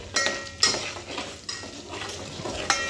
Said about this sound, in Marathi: म्हणून आपल्याला तेलामध्येच हे जे मसाले आहेत ते चांगले परतून घ्यायचे आहेत